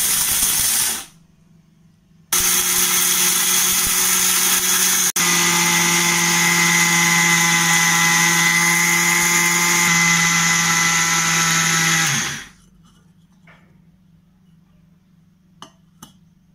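A kitchen mixer grinder runs steadily for about ten seconds, grinding homemade bath powder ingredients with a loud, even whine and hiss, starting and stopping abruptly with brief quiet gaps and faint clicks afterward.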